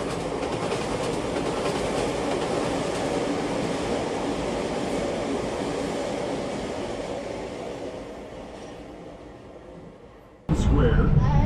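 The Disneyland Railroad train rumbles steadily along the rails, a continuous loud roll that slowly fades before a sudden louder burst at the end.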